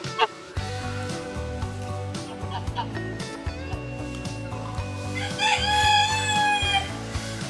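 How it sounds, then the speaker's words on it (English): A rooster at a Coffs Harbour campground clucks and gives a drawn-out crow near the end, heard over steady background music. "We're not a chicken, you're a rooster."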